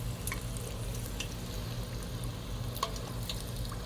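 Food fries in hot oil with a steady, close bubbling sizzle and scattered crackling pops throughout, without anyone talking.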